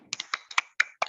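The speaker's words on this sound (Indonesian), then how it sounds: "Tepuk tangan buat Juwita." Brief scattered clapping from a small class of students applauding a classmate, six or so quick uneven claps over about a second, light and close with no talk.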